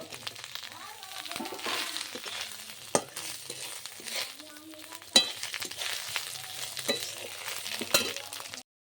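Eggplant frying in hot oil with dried red chili, bay leaf, nigella seeds and ginger, a steady soft sizzle broken by scraping stirs and occasional clinks of a utensil against the pan.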